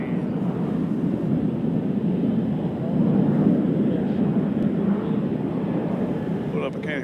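A fighter jet, an F-16 or F-15, flies near Nashville International Airport, a heavy, continuous low roar that rises slightly midway and fades a little toward the end.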